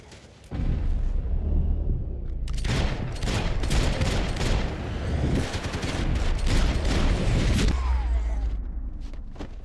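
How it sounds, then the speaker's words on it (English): Dense gunfire fills a fight in Max Payne 3, with rapid overlapping shots and bursts rattling almost continuously, loud and close, after a brief quieter lead-in. "Gunfire over Hoboken."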